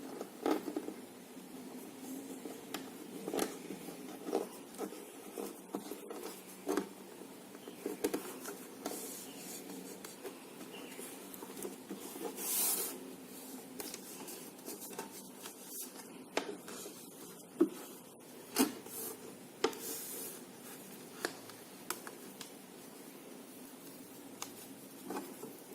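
Half a sheet of newspaper is rolled around a pencil, giving close, quiet paper rubbing and crinkling with scattered soft rustles and small crackles that come and go unevenly.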